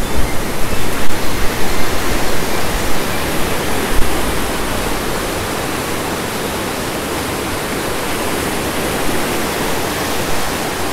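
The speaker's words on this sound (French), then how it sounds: "Pour apprécier le son du courant, rien de mieux que de se mettre sur le pont, de fermer les yeux et d'écouter l'eau." A river stream flowing near Aoni Onsen in Japan gives a steady, dense rushing of water, loud and close, continuous and even throughout with no voices.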